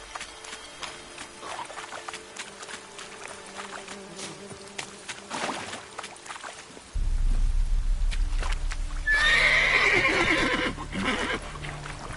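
Roach, Geralt's horse in The Witcher 3, trots with soft hoofbeats, then a louder rumbling passage begins partway through, followed by a clear, close whinny near the end.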